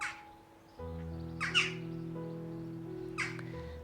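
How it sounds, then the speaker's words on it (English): A pair of starlings calls directly overhead outdoors, with three bursts of harsh, noisy squawks near the start, middle and end over a steady low hum. "You might be able to hear this very noisy pair of starlings."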